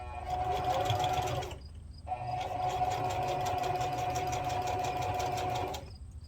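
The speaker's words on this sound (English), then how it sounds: "I'm just doing straight stitches on a stitch length of 4" A Singer Heavy Duty 4452 sewing machine runs straight stitches at a 4 mm stitch length, a steady close mechanical whir with a rapid needle rhythm, pausing briefly in the middle before starting again and running on.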